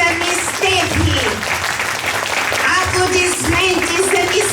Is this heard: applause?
yes